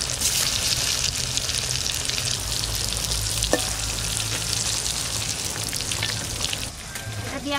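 Stingray fish frying in hot oil in a pan, a loud, steady crackling sizzle close up, with a brief clink partway through and the hiss thinning slightly near the end.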